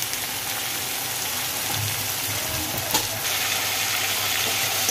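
Masala with ginger garlic paste frying in a pan for veg kofta curry, a steady close hiss and sizzle that continues without a break and has no voices over it.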